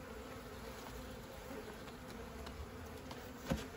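A swarm of honey bees being installed into a hive box hums in a continuous close buzz, steady and unbroken throughout, with a faint knock near the end.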